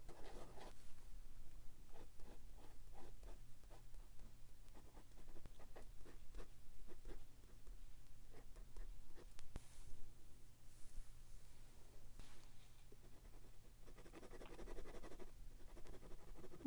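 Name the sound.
pencil sketching on paper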